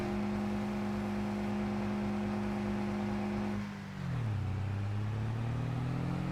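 In Farming Simulator 22, a tractor towing a sickle bar revs hard at around 70 km/h with a steady, strained engine drone that dips sharply in pitch partway through, then climbs back up.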